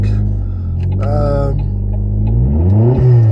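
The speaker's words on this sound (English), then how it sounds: "It sounds alright, this car." A car engine idles steadily, then revs up with a rising whine and drops back, close by, with faint voices briefly audible.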